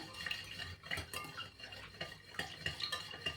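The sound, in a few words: stirring sugar into hot ghee in a pan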